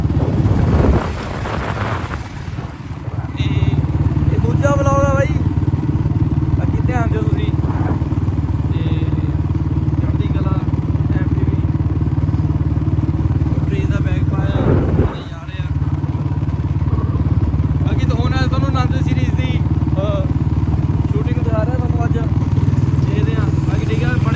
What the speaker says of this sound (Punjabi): ਅੱਜ ਜਾ ਰਿਹਾ ਮੈਂ ਬੁਲਟ ਤੇ